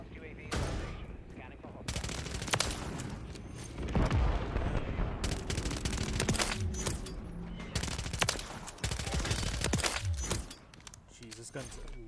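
AMR9 submachine gun with a no-recoil setup firing in Modern Warfare 3, loud repeated rapid automatic bursts with explosive booms between them, under in-game voices.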